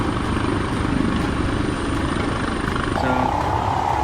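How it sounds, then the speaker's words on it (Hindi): A helicopter lands at a minister's house in Kathmandu during unrest, its loud, steady rotor and engine roar filling the scene throughout, with a slight change in tone near the end. "काठमांडू में बिगड़ते हालात को देखते हुए मंत्री के घर पर हेलीकॉप्टर उतारा गया"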